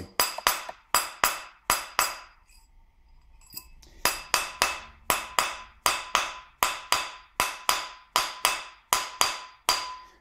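A ring is struck with a rawhide mallet in a steady run of sharp, ringing metallic blows, with a brief pause and shuffle before the tapping resumes at an even rhythm.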